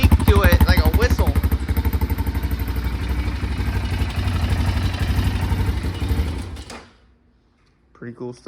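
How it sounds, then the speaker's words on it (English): Big-bore quad engine running with a rattling, buzzy exhaust that carries a whistle-like squeak, loud and steady for about seven seconds before cutting out, then a brief voice at the end. "This exhaust has a squeak to it, like a whistle."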